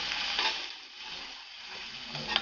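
Green chilli chicken is stirred with soy sauce in a hot pan, making a close, continuous sizzle with soft scraping swells as it is mixed.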